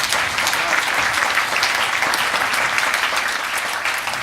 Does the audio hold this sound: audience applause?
yes